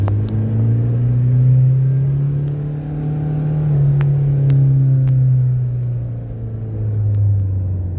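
A Toyota Hilux truck's engine hums with a loud, deep, steady drone from inside the cab, swelling and easing gently as the throttle is fed in gradually, with faint clicks over the top.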